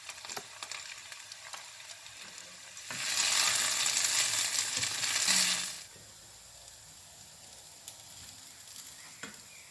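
Spaghetti with fish sauce, seasoned with white pepper and oregano, is stirred and mixed in a pan, giving a loud burst of scraping and sizzling of about three seconds in the middle, with quiet stillness before and after.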